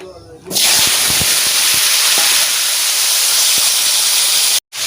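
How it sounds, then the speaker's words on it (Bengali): Potatoes tipped into hot mustard oil in a wok burst into a loud, sustained frying hiss that starts abruptly after a short quiet lead-in and holds steady, with a brief dropout near the end. "এটা গরম হয়ে গেছে রাখা আলুগুলো দিয়ে দেবো কড়াইতে"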